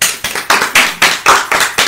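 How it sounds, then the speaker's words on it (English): Hosts on a talk-show set clap together to open the show: about seven loud, close claps in a steady, quick rhythm, each with a short room ring, with no talking over them. "Three. Let's clap."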